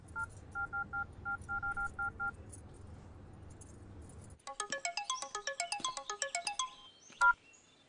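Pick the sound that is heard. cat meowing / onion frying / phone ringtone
phone ringtone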